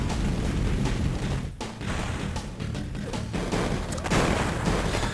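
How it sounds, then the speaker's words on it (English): Bombs exploding in Crash Bandicoot 2: dense, continuous rumbling blasts and crashes forming a loud, unbroken wall of noise, with brief dips between bursts. "those bombs don't kill you, but they do slow you down"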